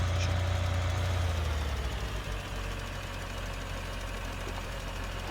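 A New Holland T7550 tractor engine idles in the video game Farming Simulator 2013, with a steady low rumble and knocking throb that holds evenly, loudest at the start, with no talking over it.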